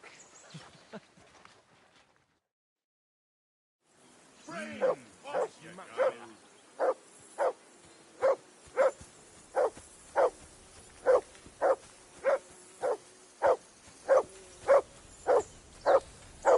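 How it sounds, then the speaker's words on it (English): Dog barking in the game Kingdom Come: Deliverance 2, a few scattered barks at first, then after a short silence a steady run of loud, evenly spaced barks repeating about every second close by. "Whistle at that mutt of yours to stop barking!"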